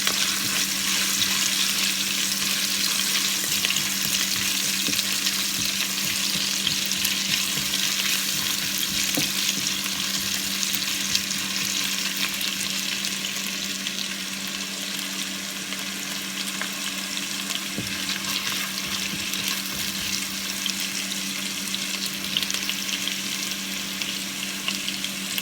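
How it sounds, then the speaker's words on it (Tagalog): Garlic and ginger fry in a pan with a steady, loud oily sizzle and crackle that continues for the whole stretch, with an occasional small clink. "Sabay ko na ng bawang sa luya."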